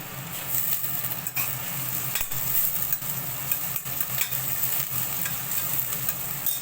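Onion and a handful of mint frying in a pan, a steady close sizzle with frequent scraping stir strokes and light utensil clatter throughout.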